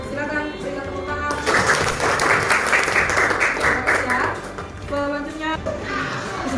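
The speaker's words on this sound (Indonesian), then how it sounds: "Silakan, berikan tepuk tangan." A burst of applause from a group swells for several seconds between stretches of a person speaking, dense and fairly close.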